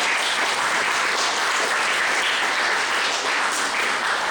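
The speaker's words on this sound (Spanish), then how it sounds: "Le damos fuertes aplausos" Sustained, loud applause from an audience at a political science workshop, even and continuous clapping for the whole stretch.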